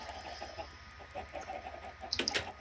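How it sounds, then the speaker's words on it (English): Chickens clucking in the video game Minecraft, a run of soft repeated clucks over low background hum with a brief brighter burst near the end. "I would like to show you all my mother freaking chickens."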